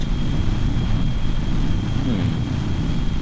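A model airplane flying and pitching in the air, its engine or propeller drone steady and fairly loud throughout, with broad wind-like noise and no talking.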